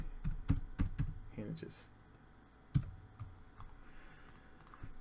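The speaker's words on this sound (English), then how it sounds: "press B from keyboard and name it" Computer keyboard keys clatter in bursts of close, crisp taps and clicks while a 3D CAD table model is worked on. A voice speaks briefly over the typing.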